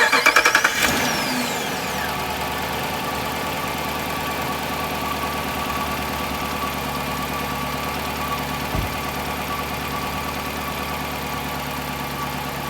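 A Dodge Durango R/T V8 with a newly fitted intake cranks briefly and catches, then settles into a steady, loud idle that rumbles on close by for several seconds, with no talking.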